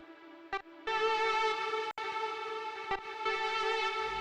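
A synth lead for an R&B beat is processed with Effectrix, giving bright harmonic notes broken by a short stutter near the start and sharp momentary cutouts, soft and alone.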